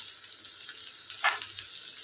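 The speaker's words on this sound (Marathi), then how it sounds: "लगेचच टोमॅटो घालते." Tomatoes hit a hot pan and sizzle steadily in a constant hiss, with a faint clink partway through. Spiny gourd is being cooked, and no one is talking.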